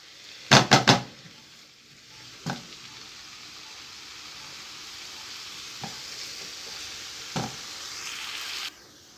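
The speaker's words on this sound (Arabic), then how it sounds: "كي يتحمر شويه البصل زيدوا عليه هذاك صدر الدجاج" Chicken breast added to browning onions in a pan, a few sharp clatters of utensils against the pan followed by a continuous crackling sizzle with occasional taps.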